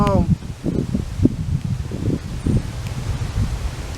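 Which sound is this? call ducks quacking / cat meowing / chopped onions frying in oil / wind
wind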